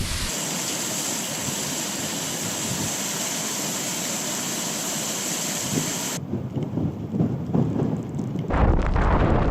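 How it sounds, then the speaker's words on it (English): A hail shower sweeps over Donegal's Bluestack Mountains near Lough Belshade, a dense roaring hiss that holds steady and then turns rougher and more uneven with gusty wind buffeting the microphone toward the end. "Nearly got away with missing the showers, but this hail shower's got me."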